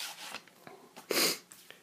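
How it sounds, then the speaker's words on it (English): A person with a cold sniffles, a few faint quick nasal breaths followed by one louder, longer snorting sniff near the middle, close and quiet with no talk. "Sorry, I got a cold, so please excuse the sniffles"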